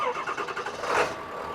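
Ford 7.3 Powerstroke diesel engine in an old truck cold starting: a brief cranking chatter that catches into a rough, loud idle, heard close with no talk.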